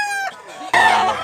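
A rooster at a poultry market in Mantalungon, Cebu lets out a loud, close crow that breaks off, followed by a short pause and then a harsh, throaty cluck-squawk.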